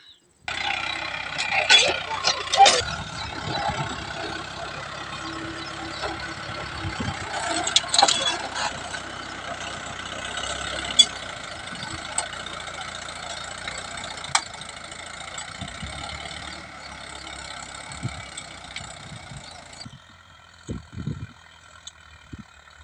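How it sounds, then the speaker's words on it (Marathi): A tractor ploughing a field drones steadily at a distance, mixed with clanks and rustling, while a person talks intermittently over it. "मामांचा ट्रॅक्टर आहे मित्रांनो आणि मामाने रान नांगरण टाकलेले आहे"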